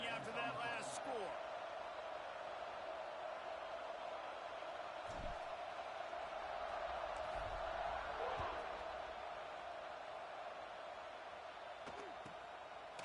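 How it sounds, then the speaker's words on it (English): A stadium crowd buzzes in a college football video game after a touchdown: a steady, distant roar and murmur with a few sharp thumps near the start, under a commentator's voice. "this crowd is buzzing after that last score"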